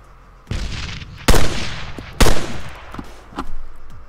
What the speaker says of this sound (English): So if I wanted to, just start chucking nades.